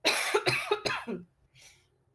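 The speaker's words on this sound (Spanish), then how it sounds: "voy a toser" A woman recovering from flu coughs several times in a quick, harsh burst close to the microphone, then a faint breath follows.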